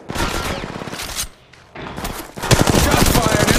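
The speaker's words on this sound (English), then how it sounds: "Shots fired and they're hitting me." Rapid volleys of gunfire from the Apex Legends Mobile video game, loud and dense with bursts of shots, a short lull in the middle, then sustained firing to the end; faint voice-like sounds mix in.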